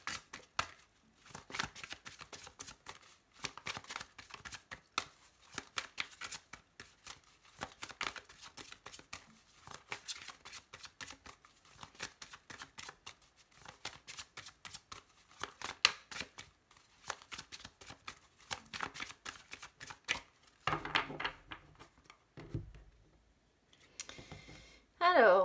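Lenormand oracle cards being cut and shuffled, a rapid run of soft flicking, riffling card snaps, fairly quiet and close, with brief pauses near the end.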